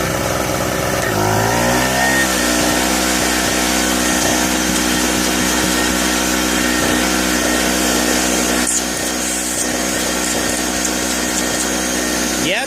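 A dust collector used for chainsaw milling drones steadily on generator power, switching on with a rising whine, then running as a loud, continuous mechanical hum with the generator straining beneath it.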